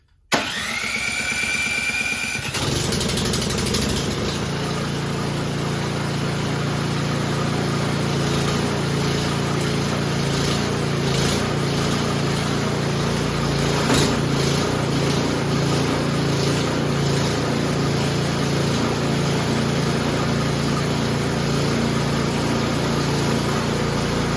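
An Ariens Classic 24 snow blower engine catches after a brief starter pull, then settles into a loud, steady mid-pitched running drone that continues unbroken to the end, with no talking.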